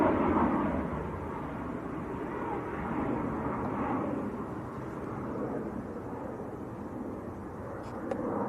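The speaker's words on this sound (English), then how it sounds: "Turkish 737 just taxiing out" Turkish Airlines Boeing 737 taxiing out at Manchester Airport: a steady, broad jet engine rumble and whine, moderately close, holding at an even level throughout with faint background noise.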